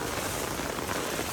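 Heavy monsoon rain pouring down steadily, a dense continuous hiss of water hitting surfaces, loud and close with no break.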